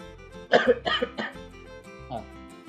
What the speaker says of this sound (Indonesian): Maaf Pak, saya batuk.